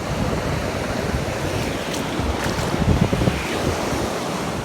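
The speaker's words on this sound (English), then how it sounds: "As you can see, we've got a lovely surf on." Surf waves break on a beach during a fishing outing, a loud, continuous roar of churning water with heavy wind buffeting the microphone, a slightly stronger wash swelling midway.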